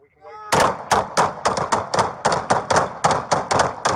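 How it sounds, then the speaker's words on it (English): A rapid string of about ten police gunshots, loud and close, fired at an even pace after a brief voice, each shot a sharp broadband crack. "All right, cease fire. Shots fired."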